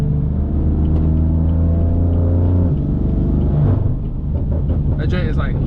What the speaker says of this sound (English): Basically now it's a straight pipe.